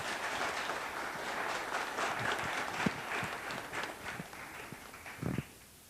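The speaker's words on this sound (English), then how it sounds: "Shall we keep clapping for him?" Audience clapping at the Harare Institute of Technology Technovation Expo, a sustained wash of applause from a crowd that tapers and stops near the end.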